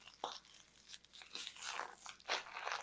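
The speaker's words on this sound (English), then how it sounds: "Now we're going to take some Townhouse crackers." Townhouse butter crackers crunch and crinkle as they are handled and broken for a chicken casserole topping, a series of close, quiet crackling snaps at an irregular pace.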